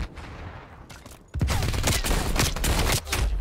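Bursts of gunfire from the video game Call of Duty Cold War, a sharp rapid fusillade of loud close shots that erupts after a quieter opening second and continues with brief pauses.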